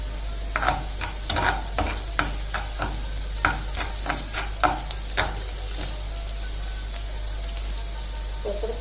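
Onion and garlic stir-fried in oil, a low constant sizzle under a run of sharp spatula scrapes and taps against the pan that stop partway through, leaving the quiet hiss alone.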